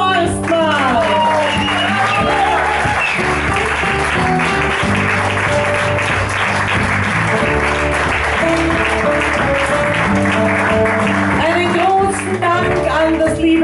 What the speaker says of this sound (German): Damen und Herren, einen riesengroßen Applaus für Alexander Horstmann!